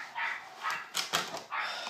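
A neighbouring dog yaps in quick, high bursts, several sharp barks and whiny yips close together, fairly loud and alone.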